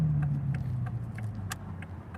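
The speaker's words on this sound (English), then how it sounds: "You're hearing the engine, but wait till we start taking off." A Toyota Supra sports car engine runs with a low, steady droning hum that slowly eases off, with faint clicks and ticks inside the cabin and no one talking.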